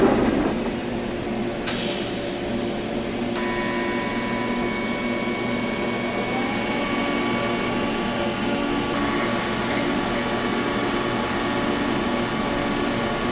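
A TIG welder set at 75 amps runs a steady, continuous buzzing hum with tonal whine while welding 6061 aluminium, holding level and fairly loud throughout with slight shifts in pitch.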